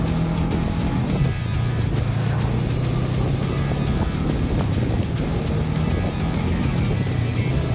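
A Honda Rebel 500 motorcycle fitted with 10-inch ape hanger bars is ridden on the road. A steady low engine drone sits under constant heavy wind rush, with no distinct gear-shift break standing out.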